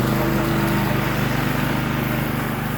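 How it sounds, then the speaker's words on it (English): A rotary mower fitted with a dethatching blade runs steadily over a dormant Bermuda grass lawn, a loud, continuous engine drone with a buzzing whir, close by and alone. "I'm going over the lawn with the dethatching blade attached to the rotary mower"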